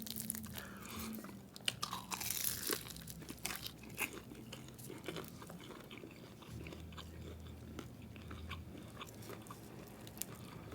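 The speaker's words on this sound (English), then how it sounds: "listen to the crunch" Hard-fried Chinese takeout with broccoli is bitten and chewed up close, giving a run of sharp, irregular crunches and crackles over about ten seconds, with no talking.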